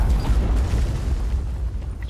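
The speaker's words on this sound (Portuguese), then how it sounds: "Eu vou me vingar com o Hellstorm" A Hellstorm missile detonates in Call of Duty Black Ops 4, a loud, continuous low rumbling blast that fills the whole moment with no pause or talk.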